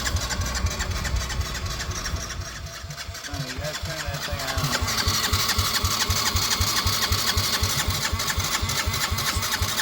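A Yamaha Grizzly 80 ATV engine, choke on, catches after a brief stumble and settles into a loud, rapid, uneven putter that runs close and constant throughout.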